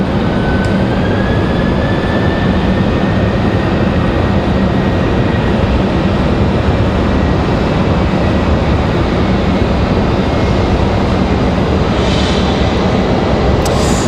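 An ATR turboprop airliner at Raleigh-Durham airport gives a broad, steady roar that holds loud and unbroken throughout, with a faint rising whine sweeping through early on and no voices.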